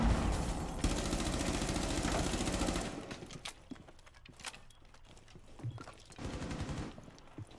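Shotgun fire in a tactical team shooter game, a dense run of loud blasts over the first few seconds, then scattered sharper shots and clatter at a lower level, with another burst of noise near the end.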